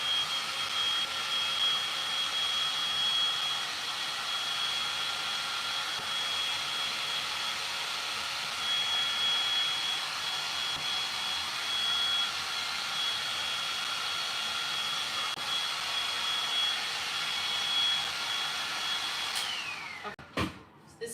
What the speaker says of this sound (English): So now we're going to dry that again. I'm going to hit it with my gun